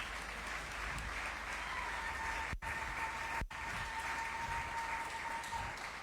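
A church congregation applauds in a continuous, even wash of clapping from many hands, with two brief dropouts.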